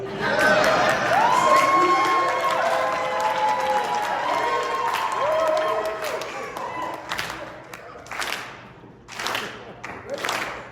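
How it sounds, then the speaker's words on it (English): A convention crowd at a Revenge of the Nerds panel in Las Vegas applauds and cheers loudly and steadily, with shouts and voices mixed in, then thins into scattered claps and bursts of cheering toward the end. "if you guys can put your hands together"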